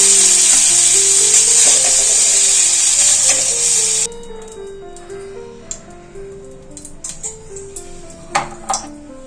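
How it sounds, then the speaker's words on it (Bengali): Pointed gourd (potol) frying lightly in a little oil for a vegetarian fenugreek-fennel curry: a loud, steady hiss for about four seconds, then a softer sizzle with light clinks and taps of a spatula against the pan. "এই পটলগুলো আমার হালকা করে ভাজা হয়ে গেল"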